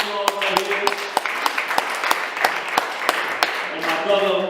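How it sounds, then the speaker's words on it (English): Sparse, uneven handclaps from a small audience at a talk in Soweto, a few sharp claps spaced apart, with voices talking over them at the start and end. "Let's give him a round of applause right here."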